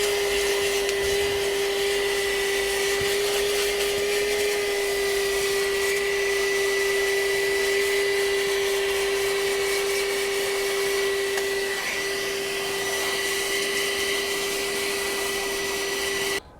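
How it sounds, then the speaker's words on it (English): A vacuum cleaner runs steadily at close range on the seats of a Tesla Model Y, with a constant high whine and airy roar, its pitch barely changing for the whole stretch. "I'm also gonna use this vacuum for the seats to remove that the ash from the seats"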